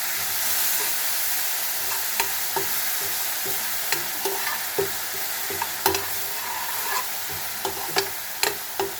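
Cumin seeds and green chillies sizzle and roast in a pan for a green chilli sabzi, a steady frying hiss broken by regular scraping and stirring clicks of a spatula, close and with no talk.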